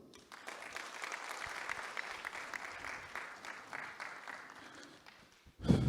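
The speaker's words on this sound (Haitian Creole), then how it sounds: "Et je vous demande d'applaudir chaudement." An audience at a company's 20th anniversary celebration applauds warmly with steady, dense clapping. The applause fades toward the end and is cut off by a loud thump.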